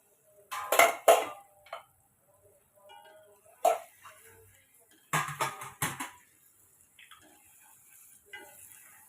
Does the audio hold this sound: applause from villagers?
no